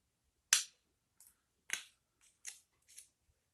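A carving knife trims the rim of a handmade wooden spoon, giving six short, crisp slicing snaps spaced unevenly against near silence, the first one loudest.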